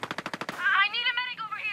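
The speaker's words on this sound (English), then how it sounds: "Hostiles are firing." A quick burst of about six automatic gunshots from Ghost Recon Breakpoint, evenly spaced and sharp, followed immediately by a voice speaking over the fading action.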